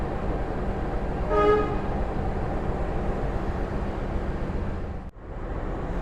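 A Wijayakusuma train locomotive moving at Surabaya Gubeng station, a steady low rumble with a brief horn-like tonal blast early on, then a sudden momentary dropout before the rumble resumes.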